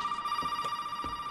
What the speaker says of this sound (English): Is it gonna keep ringing?